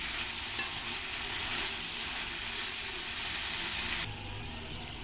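Tomato and brinjal pieces sizzle and fry steadily in a hot pan for a Telugu vankaya curry, a loud, continuous crackling hiss that drops slightly near the end, with no voices.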